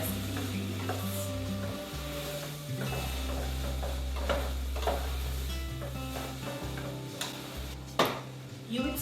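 Vegetables being stirred in a pot for a turkey stew as they soften, with a steady low sizzle and scraping stir strokes throughout, plus a few clinks from the utensil and pot.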